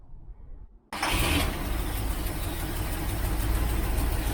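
A car engine fitted with a Holley carburetor cranks and catches abruptly after a quiet moment, then settles into a loud, steady rough idle, close by, with no talk.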